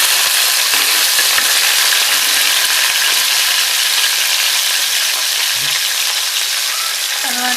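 Garlic sizzles hard in hot oil in a pan while cooking a fenugreek-tomato curry, a loud, dense and steady crackle that runs unbroken from start to finish, with no voices over it.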